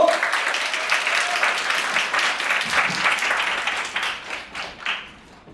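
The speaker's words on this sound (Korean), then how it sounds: "다들 큰 박수 보내주세요." A seated audience at a winter youth camp concert breaks into sustained applause for a student leader about to give a talk, steady and fairly close for several seconds before thinning out near the end.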